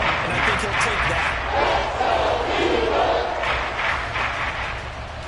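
A football stadium crowd roars and shouts in a dense, continuous wall of noise that stays loud throughout, with a few surges of cheering.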